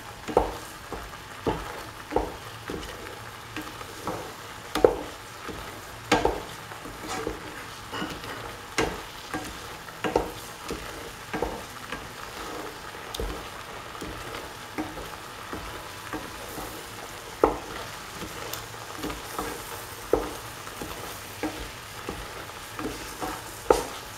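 A spoon stirs a banana yogurt bowl with curd in a kitchen, making regular soft clacks and wet scraping strokes about once a second, close and fairly quiet.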